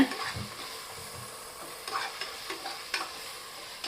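Masala being stirred in a pan just after yogurt goes in for Dindigul-style seeraga samba chicken biryani, a soft scraping sizzle with a few sharper spoon scrapes, close and steady, no talking.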